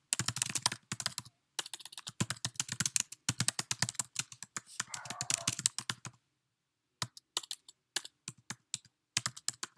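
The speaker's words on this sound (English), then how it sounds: "To save time, I'm going to type something brief." Brief bursts of rapid keystrokes on a computer keyboard while typing notes, close and clear, broken by short pauses and a longer silent gap before a few scattered final taps.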